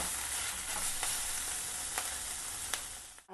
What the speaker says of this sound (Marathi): आलं लसूण पेस्ट टाकून घेते हे चांगलं व्यवस्थित कच्चा स्मेल जाऊसपर्यंत आलं लसूण पेस्ट चांगली परतून घ्यायची